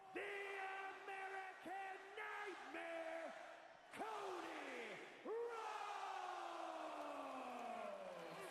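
A wrestling crowd at Crown Jewel 2024 roars and chants for Cody Rhodes during a championship match, sustained loud arena cheering with rising and falling vocal swells throughout.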